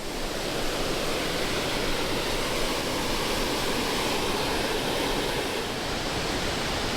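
A river flows along a path at Pipestone National Monument as a steady, close rushing of water, continuous and even throughout with no voices.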